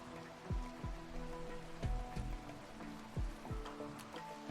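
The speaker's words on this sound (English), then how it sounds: "does it ever stop raining over here?" Rain falls in the video game RimWorld, a faint steady patter with scattered droplets, heard under a quiet background of game music.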